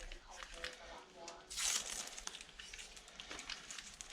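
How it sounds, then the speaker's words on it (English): Plastic packaging being unwrapped from a new motorbike tyre pump, close crinkling and tearing with a louder rip in the middle, soft and intermittent. "So unwrap it."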